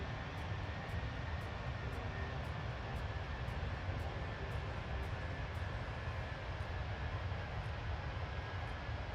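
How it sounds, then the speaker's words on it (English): Engines of a Jetstar Airbus A320 at cruise in Microsoft Flight Simulator 2024, a faint steady low drone with a constant hum, plus soft regular ticking clicks repeating about every half second. "Hear the engine spooling down."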